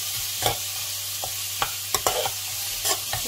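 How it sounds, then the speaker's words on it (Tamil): Sliced onions half-softened with a little salt in a pan for onion chutney, a soft hiss under repeated sharp scraping and clinking of a spoon stirring, close and unaccompanied by speech. "ஸோ இப்போ வெங்காயம் கொஞ்சம் வதங்கியிருக்கு, ஸோ ஹாஃப் வதங்கியிருக்கு."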